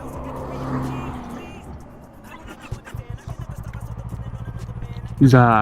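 A Yamaha MT-25 motorcycle pulls away and builds speed, its engine note rising in pulsing steps before a loud rev flare at the end; a brief spoken word occurs early.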